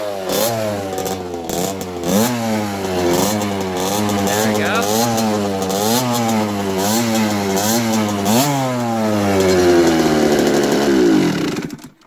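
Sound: KTM motorcycle engine kick-started and running after carburetor clean

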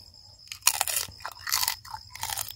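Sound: biting crispy grilled pork head

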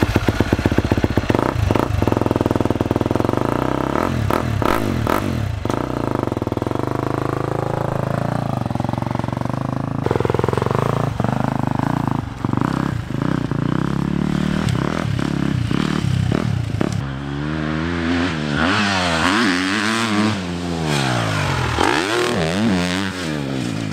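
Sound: motocross motorcycle riding on training track

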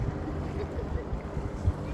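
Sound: Aegean Sea waves gently lapping

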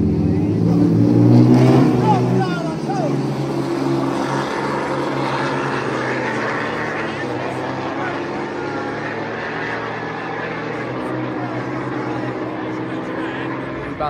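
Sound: Cadillac CTS-V engine of a donk car

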